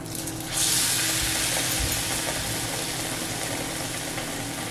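Bread pakoras drop into hot oil and set off a steady, loud sizzle that swells suddenly after a quiet start and then holds a constant hissing crackle throughout.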